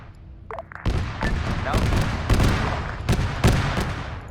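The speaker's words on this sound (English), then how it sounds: "that explosion killed all the dudes in there" A blast rips through a compound in the Arma military game, followed by a dense stretch of crackling gunfire and sharp booming reports, loud and close throughout.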